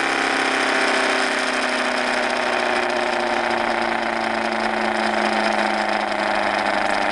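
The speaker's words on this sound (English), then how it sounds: "Turn off the power. Takes a while to spin down." A twin rotor ORBO and Thomas motor spinning down after the power is cut, a loud, steady mechanical whine and hum with slowly falling tones and no talking.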